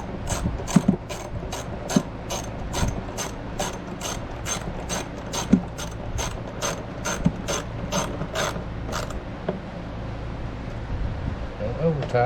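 A ratchet tightens 8mm bolts on the cowling of a 60 hp Mercury four-stroke outboard, a rapid run of evenly spaced metallic clicks for about nine seconds, close up with faint handling knocks, then stopping.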